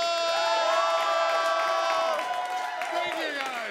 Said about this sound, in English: Keep the applause going for Michael Connell!